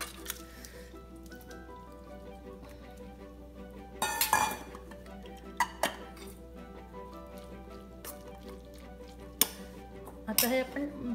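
Pressure-cooked spinach stalks and tomatoes are strained at close range, with soft squishing and scraping broken by intermittent metallic clinks of utensils against a pot.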